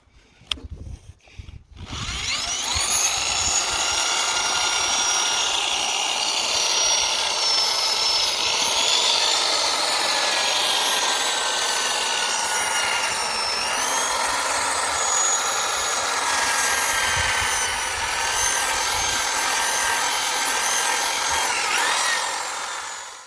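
A headlight lens is sanded by hand with a polishing kit in a continuous, loud, steady grinding whirr that runs close up for over twenty seconds, with a faint rising whine over it and no talk.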